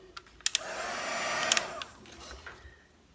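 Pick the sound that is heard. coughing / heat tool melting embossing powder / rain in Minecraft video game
heat tool melting embossing powder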